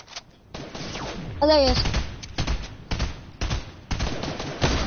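Video game gunfire crackles in several short bursts separated by gaps, fairly close and loud, with someone briefly talking between shots.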